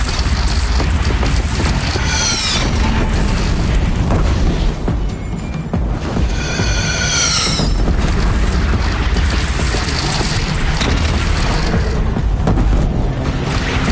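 Deep cannon booms and crashing blasts roll out in the video game Horizon Zero Dawn, loud and repeated across a noisy battle scene with no talk.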